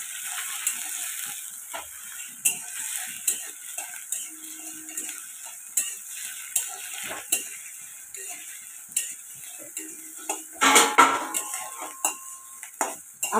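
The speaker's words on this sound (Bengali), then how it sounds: "এবার একটু নাড়িয়ে দিচ্ছি।" Food frying in a pan is stirred, with repeated scraping and clinking utensil strokes at an uneven pace over a soft, continuous sizzle, heard up close with no talking.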